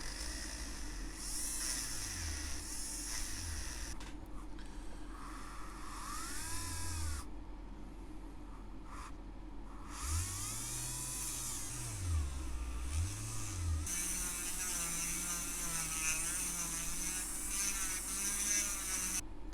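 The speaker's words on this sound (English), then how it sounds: "I managed to get my little motor drill working again" A small rotary motor tool buzzes steadily for a long stretch, its pitch wavering and dipping as it grinds out the centre of a 1/200 scale model ship part.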